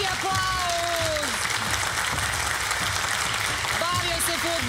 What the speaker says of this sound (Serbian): Molim vas, veliki aplauz! Veliki aplauz!